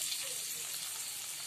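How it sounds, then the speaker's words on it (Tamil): Onions sizzle and fry in a hot pan for a Tamil banana curry, a steady bright hiss throughout with no speech. "வெங்காயம் நல்லா வதங்கிட்டு இருக்கு."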